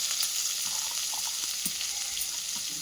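Onions and tomato sautéing in a pan for mutton fry: a steady, close hiss and sizzle with small pops and faint stirring scrapes, with no talk.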